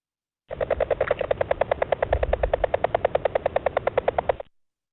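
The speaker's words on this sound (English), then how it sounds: "if you're in an Oregon spotted frog habitat, this is what you're going to hear" A rapid, steady series of knocking pulses from an Oregon spotted frog, about eight per second, continuing for several seconds, loud and alone.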